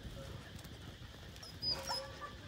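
A Rottweiler puppy of about 10 kg, at a breeder in Dong Nai, gives a few faint high whimpers and yips against a quiet background hiss, a little louder in the second half.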